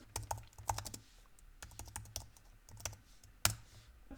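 Typing a command on a Mac keyboard, a quick irregular run of close, crisp key clicks in short bursts with one louder keystroke near the end, quiet room, no speech.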